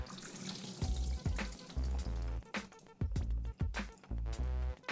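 Fresh tap water runs into a bowl as fish fillets for fried whiting are rinsed, with a steady splashing stream broken by repeated sloshing, squishing handling noises as the fish is moved and cleaned, close up.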